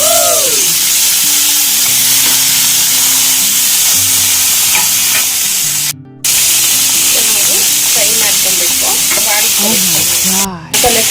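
Loud, continuous sizzling hiss of chicken frying in a hot pan, with occasional stirring and faint background voices and music.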